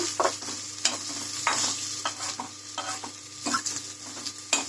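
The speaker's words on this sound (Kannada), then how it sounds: "ಸ್ವಲ್ಪ ಕೆಂಪಗಾಗೋವರೆಗೂ ಹುರ್ಕೊಳ್ಳೋಣ ಬೆಳ್ಳುಳ್ಳಿ ಕೆಂಪಗಾಗೋವರೆಗೂ" Garlic frying in oil in a pan for rasam gives a quiet steady sizzle, broken by repeated light scrapes and clicks from a stirring spoon at an uneven pace, heard close with no speech.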